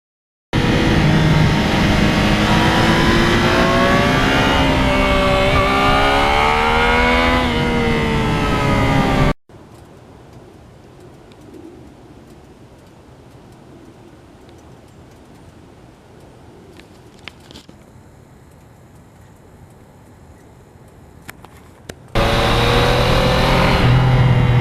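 A 2020 Yamaha MT-09 motorcycle with new tires and mods rides loud and close, its engine note rising and falling through revs, then drops to a quiet low rumble for a long stretch before the loud riding sound returns.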